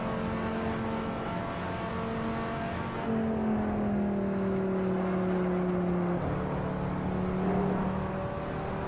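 A V10 car engine in Assetto Corsa holds a steady drone, then climbs in pitch as it revs, drops on a gear shift and rises again, loud and close with no talk.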